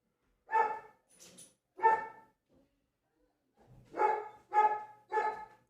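Dogs at a home bark in short bursts, two single woofs followed by a quick run of three barks, moderately close, with quiet gaps between and no talk over them.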